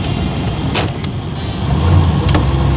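A 1929 Marmon Model 78 sedan pulling away in second gear, its engine a low steady drone with a few brief creaks and clicks, the rumble swelling slightly toward the end, close and without voices.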